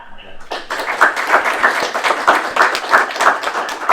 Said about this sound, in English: Everyone, let's give Kate a round of applause